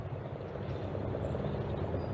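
A helicopter drones overhead with a steady low rotor thrum, fairly close and continuous, heard alone without talking.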